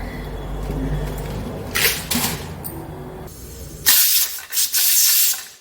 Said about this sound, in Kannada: ಕುಕ್ಕರು ಕೂಗಿದೆ